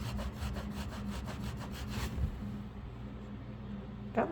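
A sponge rubs back and forth across a surface in quick, even strokes for about two seconds, close and fairly quiet, followed by a softer pause and a brief scrape.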